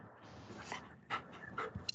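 A puppy pants in quick breathy bursts and lets out a few short whimpers, close by and fairly quiet, with no talk over it.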